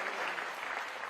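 A brief burst of dense audience applause fills a TV studio interview show, steady clapping from many hands with no voices above it.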